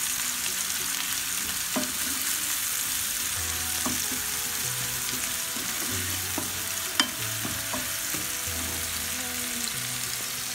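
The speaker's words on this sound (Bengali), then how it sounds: "আমি তারপর মরিচ আর টমেটোগুলো দিয়ে দিচ্ছি। একটু নাড়াচাড়া করছি।" Chillies and tomatoes fry with onion in a pan for fish curry, a steady sizzle running throughout while a spoon stirs and scrapes at intervals, with one sharper clack near the middle.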